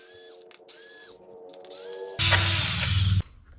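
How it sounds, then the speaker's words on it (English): A power driver with a T30 Torx bit works the mud guard screws on a BMW R1200GS motorcycle, with short whirring bursts followed by a louder sustained drilling run near the end. "the first thing we want to do is just take this mud guard off with a T30 Torx bit"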